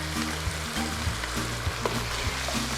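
Sweet and sour sauce bubbles and sizzles in a pan while a utensil stirs it with regular, rhythmic scraping strokes, close and steady throughout.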